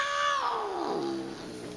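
A cat gives one long, loud, close meow that slides steadily downward in pitch and fades at the end.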